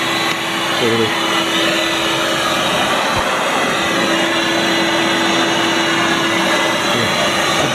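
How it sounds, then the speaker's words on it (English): A Bernoulli blower at a roadside attraction switched on, its strong steady rushing airflow filling the whole stretch with a constant drone like a vacuum cleaner; a voice speaks briefly near the start. "This is called the Bernoulli blower. So I guess we flip on the switch there."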